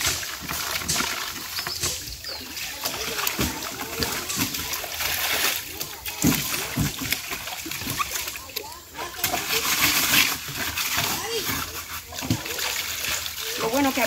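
Water splashes and sloshes in repeated bursts while a bathroom is scrubbed with soap and a little sand, close and fairly loud, with people talking throughout.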